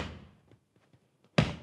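A single loud, close bass-drum-style foot stomp lands near the end, preceded by faint scattered shuffling taps and a fading tail of earlier sound.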